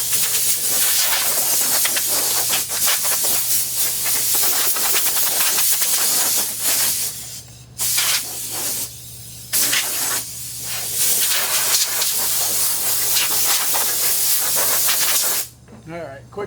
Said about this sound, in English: I'm going to go fire up the compressor so we can blow this bike off